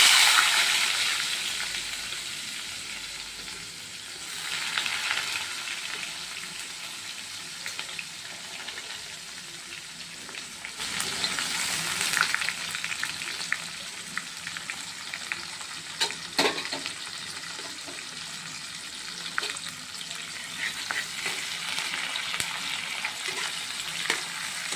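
Onions frying in a pan in a home kitchen, a steady broadband sizzle running throughout with occasional stirring scrapes and brief louder bursts, close and moderately loud with no talking.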